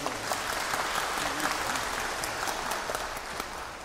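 An audience at a concert applauds the conductor, a steady, dense crowd of clapping hands that holds at an even level throughout, heard from within the hall.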